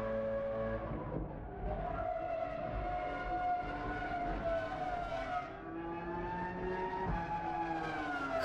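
Race cars in an F1 1999 video game scream past in a continuous high engine whine, the pitch rising and falling through gear changes and corners, with no talk.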